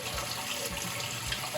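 Water drains steadily from the mash in an Anvil Foundry brewing system, a continuous close trickling and splashing like a running tap, with no talk.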